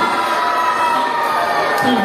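Children cheer and clap in a loud, continuous crowd roar for Kho-Kho league prize winners at a school awards ceremony.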